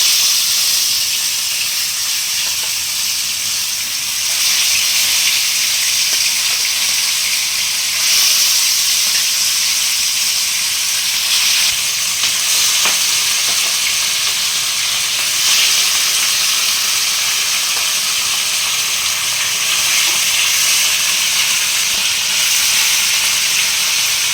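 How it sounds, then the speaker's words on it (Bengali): Pieces of rohu fish fry in hot oil, a steady, loud broadband sizzle and hiss with slight swells that continues unbroken throughout, with no voices. "এরপর আমি মাছগুলো ভাজবো"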